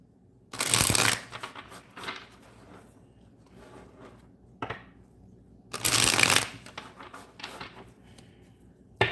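Tarot cards are riffled in two loud, close bursts of shuffling about five seconds apart, with softer handling and card taps between them.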